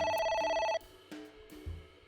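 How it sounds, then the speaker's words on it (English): A phone's electronic ring in AI: The Somnium Files video game cuts off after a short loud trill, followed by scattered soft clicks and tones from the game's ambience. "Phone. A phone. Should I pick it up?"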